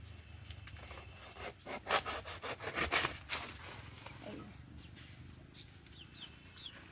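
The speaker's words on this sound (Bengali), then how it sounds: "কলা পাতাটা কেটে নেবো" A banana leaf is cut by hand in a home kitchen, giving a short run of rasping, tearing strokes in the middle, close and fairly quiet, with faint birds in the background.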